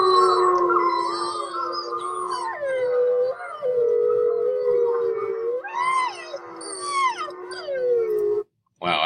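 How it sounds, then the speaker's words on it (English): Several wolves howl together in long, wavering, overlapping cries that rise and fall, loud and sustained before cutting off abruptly near the end. "Let's try some wolf howls."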